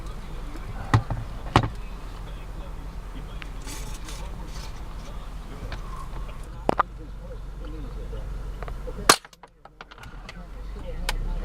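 Gunshots from an Arkansas rice farmer firing at birds: a few sharp, scattered reports, one much louder near the end and followed by a sudden hush, with men chatting throughout.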